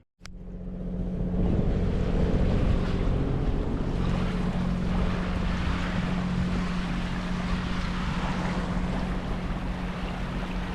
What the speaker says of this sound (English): the engine noise is a bit annoying